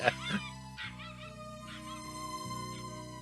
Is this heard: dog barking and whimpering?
yes